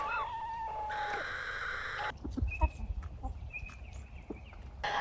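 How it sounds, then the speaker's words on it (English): Garden birds call with whistling, piping notes, some drawn out and wavering, at a moderate distance. Rustling and bumps from planting peonies cut in midway. "can you hear my birds?"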